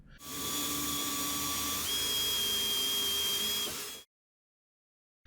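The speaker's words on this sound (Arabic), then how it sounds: "بعد كده بقى بنحدد نص الصندوق وبنعمل ثقب ببنطة صغيرة كده في الاول" Small drill bit boring a pilot hole through a wooden box, a steady high whine held for about four seconds whose pitch steps up midway, then cut off abruptly into silence.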